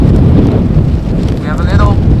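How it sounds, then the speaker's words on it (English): Wind buffeting a microphone outdoors at Amsterdam Schiphol Airport, a heavy low rumble with constant gusty roar and a brief faint voice partway through. "you are still very much exposed to the wind here constantly"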